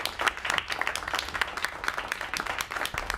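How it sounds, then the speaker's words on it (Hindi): An audience applauds to welcome a comedian to the stage, a dense, even patter of clapping from many hands that continues throughout without a break. "तालियों से स्वागत कीजिए मेरे खास दोस्त पॉल साचिमो"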